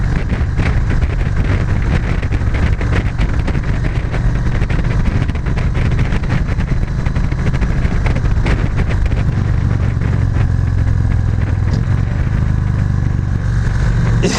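A loud, continuous Victory Magnum motorcycle exhaust roar as the engine is revved while riding, heavily mixed with buffeting wind noise throughout.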